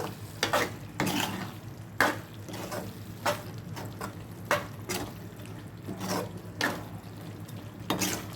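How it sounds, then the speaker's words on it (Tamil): Mushrooms frying in a pan for mushroom pepper masala, a low hiss under loud, regular stirring and scraping strokes that come about once a second, close by. "இப்போ காளான் ஆட் பண்ணிக்கணும். ஒரு 10 நிமிஷம் நல்லா ஃப்ரை ஆகட்டும்."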